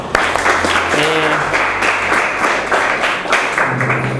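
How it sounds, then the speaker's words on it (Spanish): A group of students applauds their team at the end of a classroom presentation, clapping steadily for several seconds with some voices mixed in over the noise. "un aplauso para el equipo"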